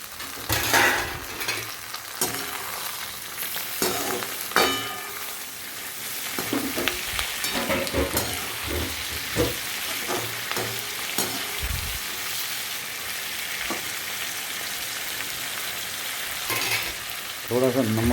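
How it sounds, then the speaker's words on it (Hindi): Chopped tomatoes go into a frying pan already holding green chilli and ginger for a restaurant-style chana masala, sizzling loudly and steadily with intermittent stirring scrapes and clinks. "अब इसमें जाने देते हैं कटे हुए टमाटर।"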